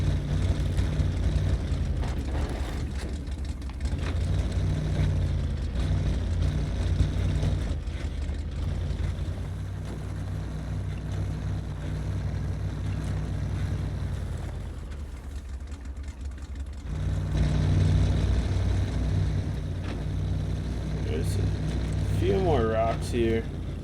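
In SnowRunner, a 1979 Chevy K30 truck drives in high gear with a steady, loud engine drone that rises in pitch around the middle, while someone talks over it.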